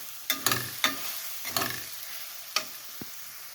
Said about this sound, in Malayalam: മുട്ട നല്ലതുപോലെ ഒന്ന് മിക്സ് ചെയ്ത് കൊടുക്കുക.